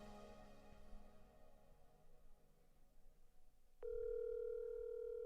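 A telephone call goes unanswered: after quiet background murmur, a loud, steady ringing tone starts abruptly near the end and holds unbroken.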